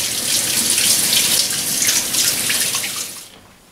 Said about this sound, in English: So make sure you wash your hands before you do any cooking.